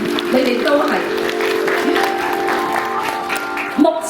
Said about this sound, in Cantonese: 不加思索，俾啲掌聲，你哋都係。